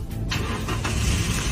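Car engine cranking and catching after a no-start fault was repaired, a brief starter burst followed by a steady rumbling idle, close and fairly loud.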